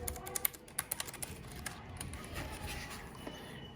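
Close-up typing on a Keychron K3 keyboard, a quick burst of crisp individual key clicks that then thins into softer, scattered taps.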